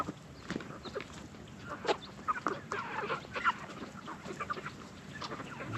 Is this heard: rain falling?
no